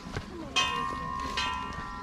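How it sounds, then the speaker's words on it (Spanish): A church bell rings somewhere along the Ruta de las Flores in El Salvador, sounding two clear metallic strikes with lingering hum, moderately distant, with faint background voices and ambience. "La campana."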